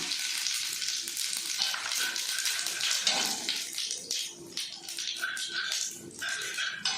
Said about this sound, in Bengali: তেলটা খুব ভালো করে গরম হয়ে গেছে, এবার আমি গোটা জিরে সম্বার দিয়ে দেব।